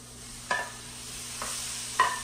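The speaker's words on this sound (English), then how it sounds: "I add my shrimp." Shrimp frying in a pan with cooked tomato, a steady sizzle broken by three sharp scraping stirs of a utensil, close and without speech.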